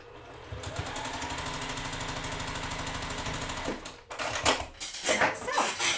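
A sewing machine runs steadily while stitching a quilt block seam, a fast, even mechanical whir that stops about four seconds in before handling noise and a few rustles follow.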